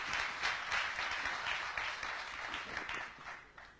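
Steady, dense applause from a seminar audience at a gastronomy trends event, heard at moderate distance and sustained throughout before easing slightly at the end, with no voices over it.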